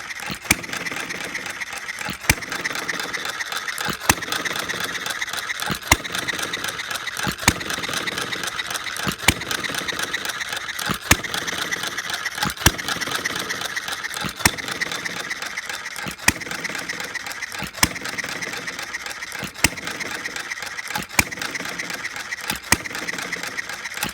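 A half-scale hit-and-miss model engine runs on lantern fuel mixed with castor oil. It gives a steady mechanical drone, with a sharp firing bang roughly every two seconds in a regular hit-and-miss rhythm. The sound is close and continuous for the whole stretch.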